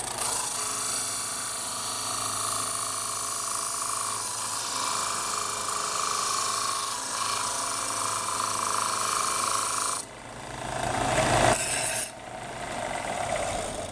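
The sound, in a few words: sander sanding wooden flute end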